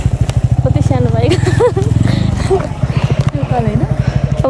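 Small motorcycle engine chugging steadily uphill on a mountain road, loud and close with a pulsing low rumble, while people talk over it.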